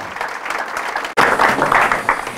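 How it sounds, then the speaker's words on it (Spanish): A church congregation bursts into strong applause during a Mass, a brief clap before a short pause, then a loud, full round of many hands clapping close by. "Fuertes aplausos a la palabra del Señor"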